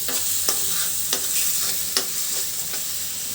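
Papaya bharta frying in mustard oil in a wok over medium-low heat, a steady close sizzle broken by several sharp scrapes of a spatula as it is stirred, with no speech.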